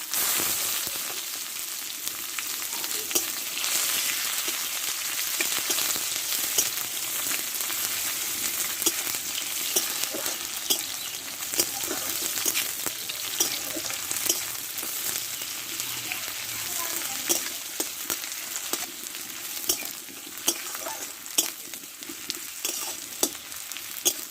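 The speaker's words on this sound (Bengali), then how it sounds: "মোটা সাইজের কেটে রাখা পেঁয়াজ ভেজে নেবো আমি ভালো করে" Coarsely cut onions frying in hot oil with a bay leaf, cinnamon, cardamom, cloves and whole cumin, giving a steady close sizzle with frequent scraping stirs throughout, no talking.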